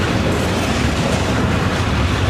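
A train passes close by at a railroad crossing, a dense, steady rumble and rush of rolling wagons filling the whole clip without a break.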